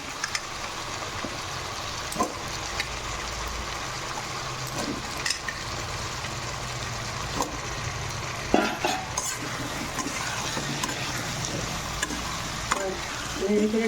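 Masala spice paste for a prawn curry is stir-fried in oil, with repeated spatula scrapes and clinks against the pan over a steady background sizzle, and no one talking.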